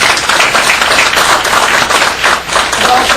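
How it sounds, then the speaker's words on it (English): Loud, close applause at a regional commission board meeting, a room of people clapping steadily with scattered individual claps standing out, and no talking over it. "I think everybody should applaud this"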